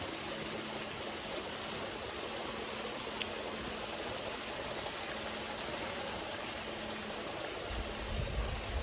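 A stream of flowing water gives a constant, faint wash of rushing noise that runs evenly throughout, with no voices.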